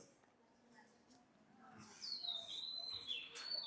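Soft bird chirps in a quiet outdoor setting at a temple in the Konkan, with mango and cashew trees around, then a clearer high whistling call rises toward the end.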